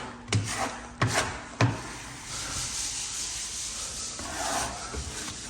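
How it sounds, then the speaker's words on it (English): A green plastic wallpaper smoother sweeps across Vahallan Bristol wallcovering around a round window, making broad rubbing and rasping strokes. Three sharper swipes open the clip, then a steadier scraping continues, close and moderately loud, with no talking. "I smooth with my green smoother"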